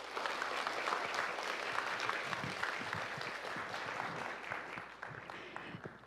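Sustained audience applause from parents at an education seminar after the superintendent's speech, dense steady clapping that thins and fades toward the end.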